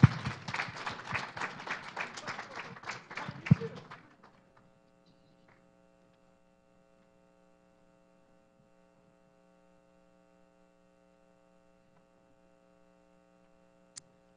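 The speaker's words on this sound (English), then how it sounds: "A warm applause for him" Applause from a conference audience for a speaker, a few seconds of dense clapping that cuts off abruptly into a steady electrical hum.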